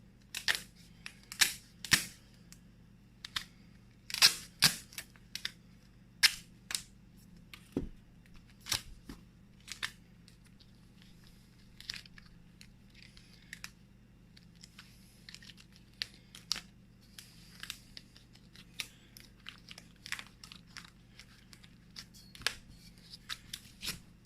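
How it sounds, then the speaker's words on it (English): A zip tie is snipped off and tape is pulled and pressed down while weighting a mace bell: many sharp, close clicks, snips and tearing, crinkling bursts in an irregular rhythm. "So I'll just go through and trim off that zip tie and put a little tape over that."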